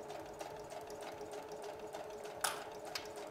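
Domestic sewing machine stitching recycled fabric for a belt bag runs in a steady close whirr with a rhythmic needle clatter, punctuated by a brief louder clack.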